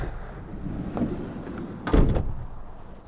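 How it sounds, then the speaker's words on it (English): The sliding door of a 2020 Mercedes-Benz Sprinter 2500 crew van rolls along its track, then thuds heavily into place, with a faint rumble beneath. "Show you how the door opens here."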